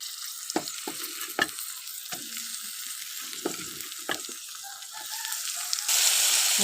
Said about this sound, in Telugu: దొండకాయ యాడ్ చేసిన తర్వాత బాగా ఇవన్నీ కలపాలి. ఇలాగా మొత్తాన్ని ఫ్రై చేయాలి.